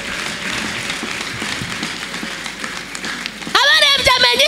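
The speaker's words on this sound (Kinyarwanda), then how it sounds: "Reka twongere tumukomera amashyi menshi." A congregation applauds loudly in a dense, steady wash of clapping for about three and a half seconds before a voice breaks in over the tail end.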